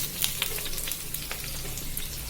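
Chopped onion, green chili and garlic hit hot oil in a wok, giving a steady close sizzle and crackle with scattered sharper pops over a low hum.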